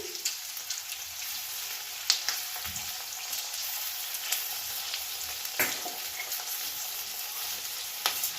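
Boiled prawns sizzle in a pan after chili sauce goes in, giving a steady close hiss broken by scattered crackles and light stirring clicks.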